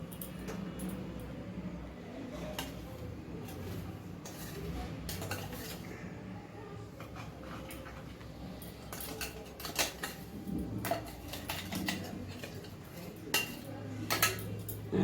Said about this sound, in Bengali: ভালো করে এটা আস্তে আস্তে করে নাড়াচাড়া করে নিয়ে ভালো করে জাল দিব।